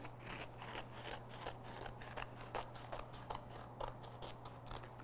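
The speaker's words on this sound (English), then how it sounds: "I'm just going to quickly just trim this side." Scissors snip through excess canvas fabric in a quick, steady series of close crisp cuts, each snip distinct over a faint low hum.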